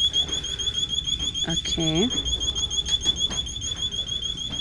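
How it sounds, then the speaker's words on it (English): A store security alarm going off inside a Marshalls shop, a loud, steady high-pitched electronic beeping that continues throughout while a shopper speaks briefly. "the alarm's going off."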